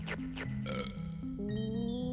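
A video game character burps in a deep, voiced belch with a stepped, wavering pitch, loud and close, running about two seconds with no talk over it.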